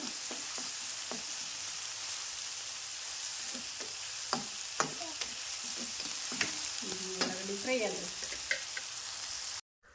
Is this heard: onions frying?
yes